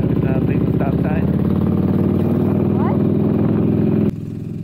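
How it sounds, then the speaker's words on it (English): A motorcycle engine chugs steadily at close range with a low, rough idle, briefly joined by talking, then drops in level near the end. "Your bike sounds like a tractor"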